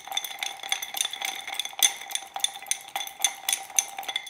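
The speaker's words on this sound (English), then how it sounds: "Stir the maple syrup in with the bitters." A spoon stirs maple syrup and bitters in a glass for a cocktail. Quick, bright metallic clinks and scrapes repeat in an irregular rhythm, close up, with no talking.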